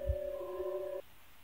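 A bell rings steadily for about a second in quiet surroundings, a clear sustained ringing tone that stops abruptly, with a faint low thump at the start.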